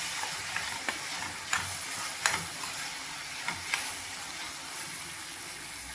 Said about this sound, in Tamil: அடுப்பை சிம்மில் வச்சு கிளறி கொடுத்துக்கலாம்.